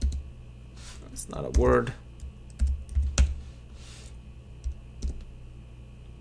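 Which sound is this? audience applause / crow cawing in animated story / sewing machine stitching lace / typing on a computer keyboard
typing on a computer keyboard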